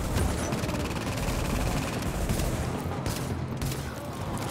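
A deployed turret in The Division fires rapid, sustained bursts, a dense and loud rattle of gunfire that keeps on without a break.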